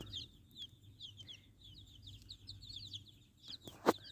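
Many newly hatched chicks peep continuously in quick, high chirps nearby, with a louder rustle or thump near the end.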